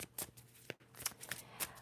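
A deck of tarot cards is shuffled in a few quiet, crisp riffling bursts separated by short pauses, close and soft with no talking.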